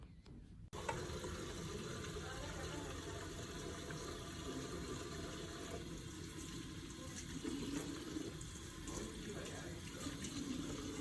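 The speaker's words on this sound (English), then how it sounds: "I'm gonna go ahead and wash my hands." A sink tap runs steadily while someone washes their hands in a clinic changing area, a continuous close splashing hiss that starts abruptly and holds for the whole stretch.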